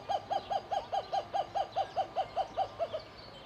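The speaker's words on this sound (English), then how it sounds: "Oh my god, guys, that's a kookaburra." A kookaburra in a bird park calls with a regular series of about fourteen hooting, chuckling notes, evenly spaced and moderately distant against faint background ambience.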